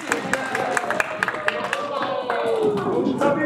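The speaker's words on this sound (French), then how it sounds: "On applaudit." Scattered hand claps from a small group in a training session ahead of a UFC Paris fight, sharp individual claps standing out over continuous talking voices.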